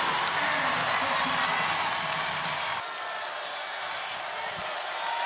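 A women's college basketball crowd at an Indiana Hoosiers game roars in the third quarter, a dense, sustained wash of cheering and noise with a play-by-play voice talking over it.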